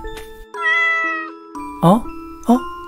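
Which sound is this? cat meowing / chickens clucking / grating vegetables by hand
cat meowing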